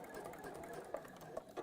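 Sewing machine basting pom-pom trim, a quiet, steady mechanical whir with faint stitching ticks, close by and with no talk.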